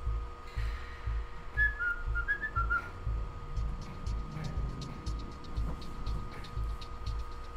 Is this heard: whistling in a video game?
yes